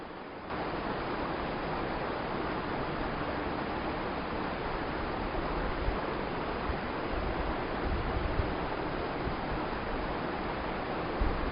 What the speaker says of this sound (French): à l'écoute de la cascade